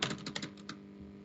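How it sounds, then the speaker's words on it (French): Quick clacking keystrokes on a laptop keyboard, including presses of the insert key, sound in a short close burst of about half a dozen taps that then thin out. "c'est sur mon clavier de portable là et ma touche insert pour repasser, elle marche pas"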